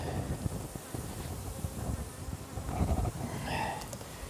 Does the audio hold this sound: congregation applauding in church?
no